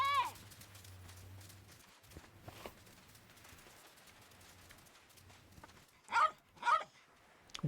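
A dog in the Yakuza video game gives two sharp barks near the end, following a stretch of quiet game ambience with brief scattered thumps.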